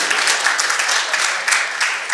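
A short burst of loud, dense clapping from a poetry festival audience for the poet Rahman, sustained and even throughout with no voices over it.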